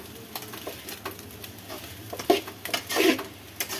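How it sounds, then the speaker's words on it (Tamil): Coconut rice stirred in a pan with cooked rice and salt, giving soft scraping and scattered clinks of a spoon against the pan, with faint sizzling underneath. "இது நல்லா கிளறிக்கலாம்"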